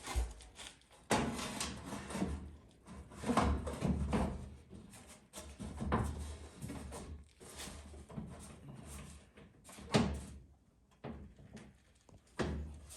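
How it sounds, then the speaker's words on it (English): Trimmed door card being pressed and fitted onto the door of a Nissan S13, giving a run of close, irregular knocks, thumps and rattles with no talking. "So now that we've trimmed the door card down, let's put it on and see how it works."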